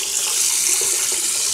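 Water runs steadily into a container, pouring with a continuous hissing splash and faint trickling, close by and without talk.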